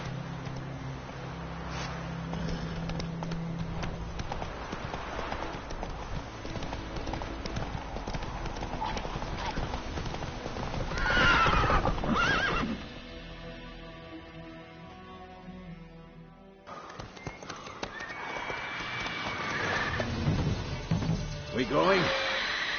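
A horse galloping in The Witcher 3: Wild Hunt, with rhythmic hoofbeats and clip-clop carrying on steadily through game ambience, sounds of struggle and brief spoken lines.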